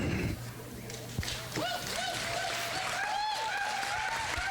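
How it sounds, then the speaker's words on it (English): Crowd applauding a polo performance by a rider on a 4-year-old chestnut filly, steady clapping throughout with a loudspeaker announcer talking over it. "Buck Schott getting a big round of applause from the crowd"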